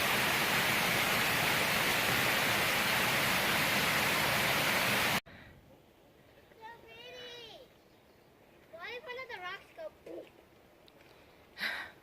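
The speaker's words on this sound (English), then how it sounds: "check out this waterfall" A multi-cascade waterfall on the Appalachian Trail in Pennsylvania roars as a loud, steady broadband rush for about five seconds, then cuts off abruptly, giving way to quiet outdoor ambience with a few spoken words.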